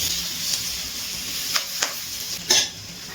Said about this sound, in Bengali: গ্যাসের ফ্লেমটা হাইতে রেখে মশলার সাথে ক্যাপসিকাম একটুখানি ভেজে নিয়েছি